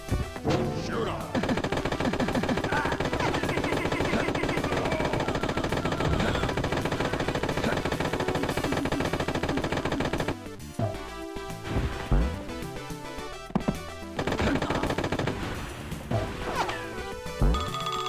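Rise of the Triad: The Dark War gameplay roars with dense, continuous machine-gun fire and crashing impacts for about ten seconds, then breaks into scattered bursts and blasts before building up again.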